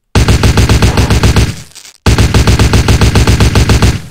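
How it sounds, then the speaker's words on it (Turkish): Uzi submachine gun fire in the video game CrimeLife 3: two loud, rapid automatic bursts of evenly spaced shots, the first fading out before a brief silence and the second starting abruptly. "Bu ne biçim bir Uzi ya? Böyle Uzi mi olur?"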